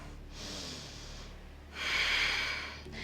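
Slow, deep breathing from a yoga instructor during a power flow class: a long hissing inhale, a pause, then a stronger exhale, heard close and alone without talk.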